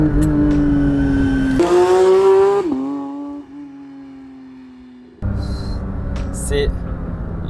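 A Porsche 911 GT3 (992) with its naturally aspirated engine revs hard in track mode, pitch climbing steeply through the gears, dropping back, then rising again as it pulls loudly up the rev range.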